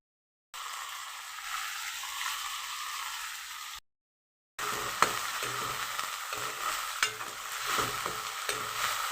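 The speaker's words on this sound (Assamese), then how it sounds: "বিলাহীখিনি সিজালৈ মই ভালদৰে এনেদৰে লৰাই থাকিম" Chopped tomatoes fry in a pan for an egg dish, a close, constant sizzle with scraping stirs, briefly cut off before the sizzling resumes.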